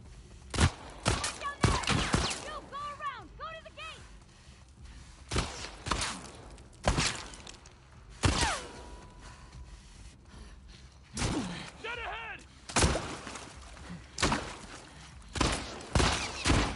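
Sharp gunshots in The Last of Us Part II, single and paired shots spaced irregularly across the scene, loud and close, with shouting and breathy voices between them.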